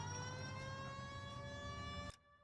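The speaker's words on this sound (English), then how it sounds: "I had the sirens on, man." A police car siren wails in the 1940s Los Angeles crime video game L.A. Noire, a steady tonal blare over engine rumble that cuts off abruptly near the end, leaving quiet engine noise.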